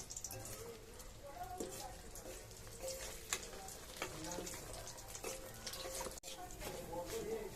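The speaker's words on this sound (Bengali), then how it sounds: "ডিমটা ভাজা হচ্ছে তেলের মধ্যে" Steady oily sizzling of fish roe frying in a pan of oil, with small clinks and stirring noises and a faint voice underneath.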